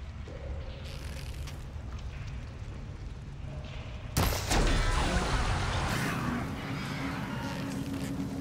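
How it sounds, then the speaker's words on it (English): An explosion deep in a mine in Horizon Forbidden West: a sudden loud boom cuts through low rumbling ambience, and a dense roaring blast then sustains for a moment before settling back into a heavy background rumble. "An explosion?"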